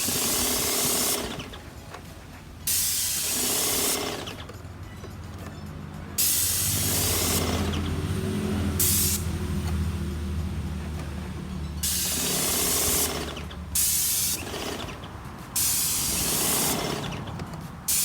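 Bursts of loud, close hissing spray from a Wagner 250M airless paint sprayer start and stop repeatedly, with short quiet gaps between passes, while painting a garage exterior.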